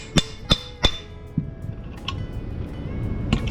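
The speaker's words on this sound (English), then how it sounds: "I was trying to drive the bolts out" Three sharp metallic hammer blows ring out close and loud as bolts are driven out of a Camaro subframe in a garage, followed by quieter knocks and a low background rumble.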